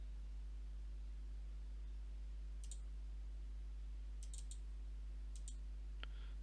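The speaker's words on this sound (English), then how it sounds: "when we click away or we click this button," Mouse buttons click in a software editor, several sharp, quiet clicks in small clusters spread over a few seconds against a steady low electrical hum.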